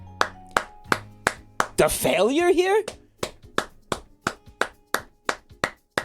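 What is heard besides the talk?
applause, hands clapping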